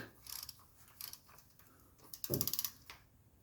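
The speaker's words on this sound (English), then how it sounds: "When I torque all these down, I like to do this by hand so I can feel it." A hand ratchet clicks in short bursts while bolts are torqued down on the axle of a 1985 wagon, quiet and close, with a slightly heavier metallic clunk near the end.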